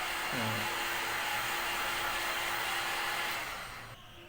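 A flash dryer for screen printing T-shirts blows with a steady, even whoosh close by, then cuts off and fades near the end.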